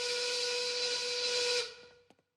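A 1930s-style work steam whistle blows one long, loud, steady hissing blast that cuts off sharply, followed by a few faint clicks and knocks.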